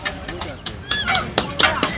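Loud, nasal honking calls from ducks repeat several times close by, mixed with people talking in the background at a traditional village market in Bogura, Bangladesh.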